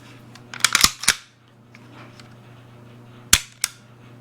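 Shots from an HK Mk 23 Mod 0 SOCOM .45 pistol at the range: a quick cluster of four or five sharp cracks, a pause, then two more spaced shots, all close and loud over a low hum.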